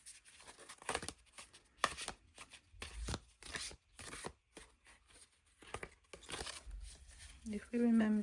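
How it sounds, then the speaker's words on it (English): A deck of oracle-style body cards is shuffled by hand, giving quiet, irregular bursts of papery riffling and soft taps, close to the listener. "I'll shuffle the cards"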